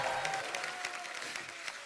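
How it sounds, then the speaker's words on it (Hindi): Studio audience applause on a Hindi comedy talk show, a brief burst of moderately loud, even clapping throughout. "जोरदार तालियां हो जाए।"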